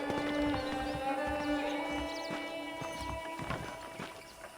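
Horse hooves clip-clopping at a ranch in the Red Dead Redemption video game, with a faint whinny, steady and close under a soft musical background.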